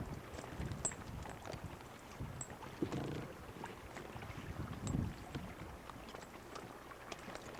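Steady wind buffeting the microphone on an August 1995 sailing trip down the Quoich River, a continuous rushing roar with brief gusty swells, mixed with the soft slosh of water against the boat.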